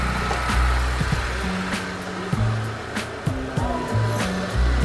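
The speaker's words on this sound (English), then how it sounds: "That's just vacuuming all of the extra Freon out of the hoses back into the machine" A car AC service machine hums loudly as it vacuums leftover Freon out of the hoses, a steady mechanical drone with low pulsing tones and occasional clicks.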